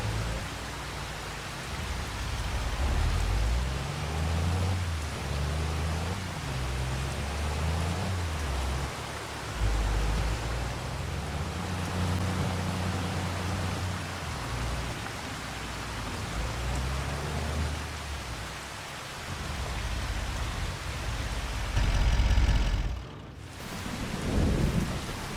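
Rain and thunder in Farming Simulator 25 make a steady, loud hiss of downpour, with low rumbles of thunder rolling underneath throughout and a heavier crack near the end.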